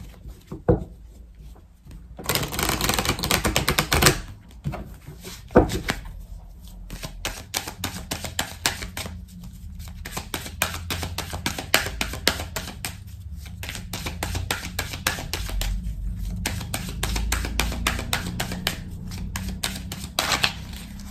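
Oracle cards are shuffled by hand for a tarot cross spread, a burst of riffling followed by long runs of rapid dry flicking and tapping, close and alone with no talking.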